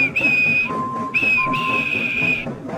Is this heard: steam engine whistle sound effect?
yes